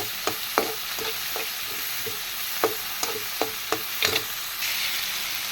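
Onion and tomato with rock salt sizzle in a pan for a goat liver curry, a steady frying hiss broken by a series of sharp spoon taps and scrapes against the pan as the mixture is stirred.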